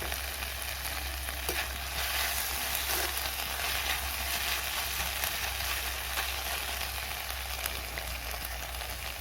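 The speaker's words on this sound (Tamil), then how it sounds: "பச்சை வாசனை போகிற அளவுக்கு நல்லா வதக்கி எடுத்துக்கலாம்." Ginger-garlic paste and ingredients for a country chicken intestine curry frying in a pan, a steady broadband sizzle with occasional stirring, continuous and fairly close, no voices.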